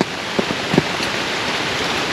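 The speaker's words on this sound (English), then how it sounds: "It's raining, but it's lightening up." Steady rain pours down, a dense continuous hiss with a few louder drops pattering close by near the start.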